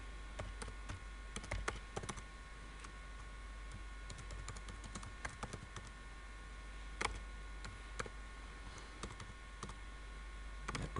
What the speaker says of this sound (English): I go back to my expense sheet and I type in